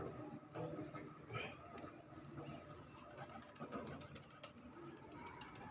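Pigeons in a loft or coop cooing softly and repeatedly, faint and somewhat distant, with scattered chirps and light background noise and no speech.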